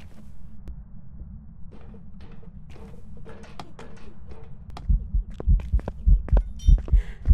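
A low thumping heartbeat from the Phasmophobia video game throbs steadily and grows louder, overlaid with sharp clicks and scattered footstep-like knocks, with no clear talking.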